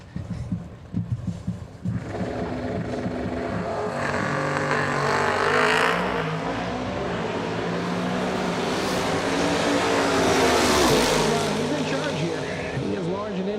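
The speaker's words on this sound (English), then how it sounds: "John Vogel, Sr., the 68 Mustang." A 1968 Ford Mustang drag car races down the strip at the Yellow Bullet Nationals. Its engine gives a loud, sustained broadband roar that swells and fades over several seconds, with strip ambience.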